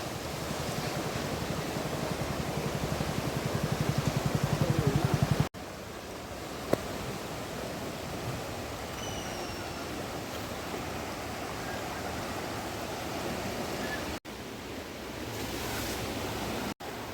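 Ganga floodwater rushing at a Haridwar ghat after heavy overnight rain, a dense, constant roar of moving water that fills the whole clip, close and loud, with brief cuts but no clear talk.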